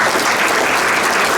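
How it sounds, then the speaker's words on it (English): An audience at a local heritage museum talk on Prohibition gives a round of applause, a dense, steady wash of many hands clapping at once, loud and close throughout. "That in itself is worth a round of applause."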